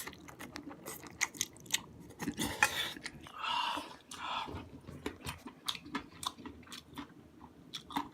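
Someone eating Chapagetti black-bean noodles with egg and ham, with quiet, close, irregular chewing, slurping and smacking in short bursts across several seconds, with small clicks and no speech.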